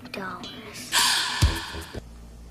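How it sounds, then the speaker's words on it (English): In the score of the film Blank Check, a sharp breathy gasp swells and then cuts off abruptly, set among other musical and vocal sounds. "Did the film score just gasp?"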